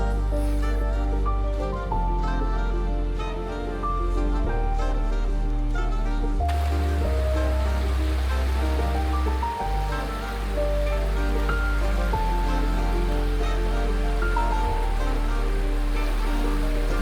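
Ocean waves wash onto the beach near St Michael's Mount in Cornwall, a continuous rolling surf roar with low swells and no voices.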